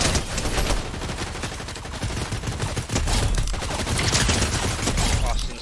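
Sustained, rapid Fortnite gunfire fills the whole stretch: dense volleys of loud, close automatic shots overlapping with distant fire, with no pause.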